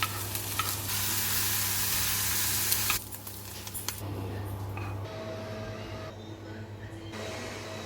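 Shallot and bacon fry together in a pan with a steady sizzle and occasional stirring, under a continuous low hum, with a brief voice partway through.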